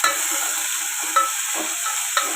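Masala fries in a pan for tamarind tomato rasam, a continuous close sizzle broken by a few quick stirring scrapes, with no voices.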